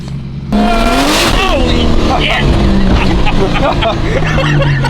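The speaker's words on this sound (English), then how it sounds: "God, the wastegate dump is so sick." A Nissan R34 Skyline roars on a dyno with a loud, sustained engine note, its pitch sweeping up and down as it revs, with a rushing wastegate dump and chatter from people nearby.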